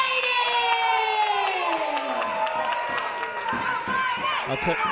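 A wrestling event crowd cheers loudly and steadily throughout, with shouts and whoops over a descending musical tone.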